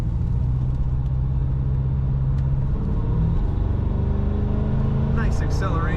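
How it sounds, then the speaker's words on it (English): A 1996 Chevrolet Impala SS sedan picks up speed on the road, its steady engine rumble and road noise rising smoothly from inside the cabin, with faint tonal sounds near the end. "Nice acceleration from this car."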